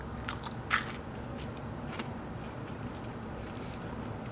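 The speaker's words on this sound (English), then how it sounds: "this is the crunch sound" Crisp crunch of a bite into salty-sweet homemade kettle corn, with one sharp crack near the start and faint chewing crackles after, close and alone with no talk.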